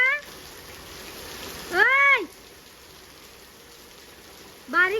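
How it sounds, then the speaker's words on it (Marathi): Rain falls in a steady, soft hiss throughout. Brief vocal calls break in twice, once in the middle and once at the end. "आणि पाऊस बघा"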